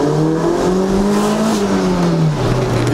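A Toyota MR2 Turbo pulls hard in first gear, its engine roaring loud and close, pitch climbing steadily before briefly dropping near the end.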